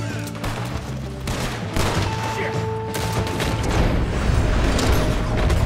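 Gunfire in the western game Red Dead Redemption 2 crackles as a dense, continuous fusillade of shots over rumbling low booms and mechanical clatter, loud and sustained throughout.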